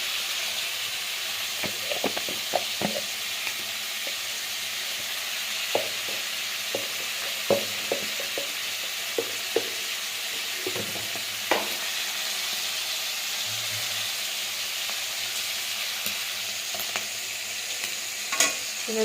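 Shrimp frying in a pan with salt and turmeric powder sizzle softly and steadily, broken by scattered clinks and scrapes as a utensil stirs them, with no voices.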